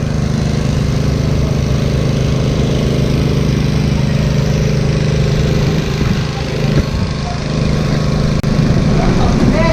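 Loud, steady rumbling of idling fishing boat engines at a port in Kota Kinabalu, Borneo, fills the scene continuously, with a low throbbing drone and faint voices mixed in.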